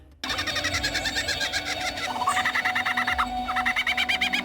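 A lyrebird, an Australian ground-dwelling bird of the genus Menura, calls nearby in a fast series of bright, repeated metallic notes, shifting into a new rapid phrase halfway through.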